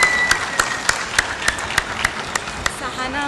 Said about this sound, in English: Let's give a big round of applause to Jyoti one more time.